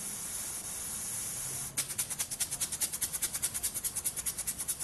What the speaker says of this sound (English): Okay, we've got full steam up now.